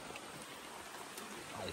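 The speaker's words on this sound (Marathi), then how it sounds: "काय पाऊस आहे आई शपथ" Faint, steady patter of rain, a soft continuous hiss with occasional drips standing out.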